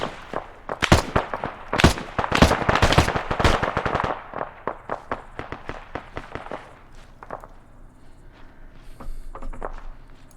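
Covering gunfire in the Altis Rebellion military shooter campaign: dense rapid bursts of automatic fire, loud and close at first, then sparser, more distant shots trailing off.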